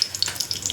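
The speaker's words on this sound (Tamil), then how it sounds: "எண்ணெய் ஊற்றிட்டு பட்டை லவங்கெல்லாம் போட்டுக்கணுங்க." Cinnamon and cloves frying in hot oil for chicken biryani, a steady close sizzle with bright crackling spits scattered through it, alone without voices.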